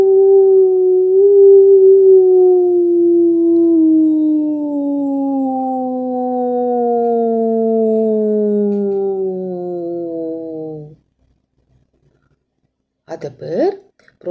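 Several voices together hum a long, sustained "oo" imitating rockets during a children's music lesson, the pitch gliding slowly downward for about ten seconds before stopping, followed by silence and a brief burst of noise.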